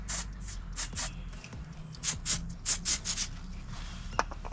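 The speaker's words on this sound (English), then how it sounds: "You hairspray it up real good, spray it up on the inside" Hairspray hisses from an aerosol can into a motorcycle handlebar grip on a 2021 Indian Scout, coming as a run of short, fairly soft bursts with brief gaps between them, followed by a faint clunk.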